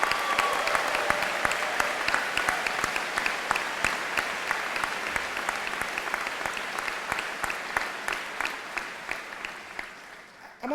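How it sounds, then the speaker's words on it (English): A large commencement audience at Denison's 2018 graduation gives sustained, loud applause, a dense steady patter of many hands clapping that holds for the full length and only starts to thin at the very end. "Can we just start by giving the great Denison class of 2018 a round of applause?"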